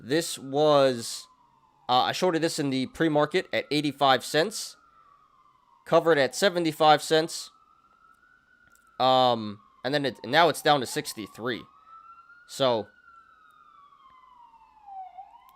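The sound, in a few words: police sirens outside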